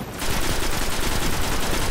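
Rapid automatic gunfire from the video game Destiny, a dense, continuous stream of loud close shots firing in an even rhythm for the whole burst, with no talking over it.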